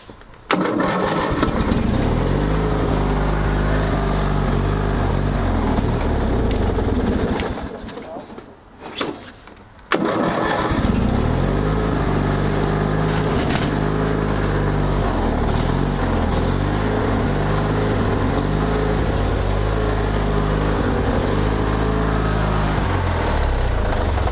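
Craftsman DYT4000 lawn tractor with a dirty, stalling carburetor runs loud and close, its engine dropping out for a couple of seconds before catching and running again; a person talks over it.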